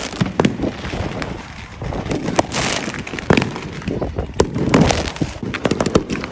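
Fireworks burst outdoors in a dense, continuous barrage of sharp cracks and pops over a rumbling wash of booms, with no let-up.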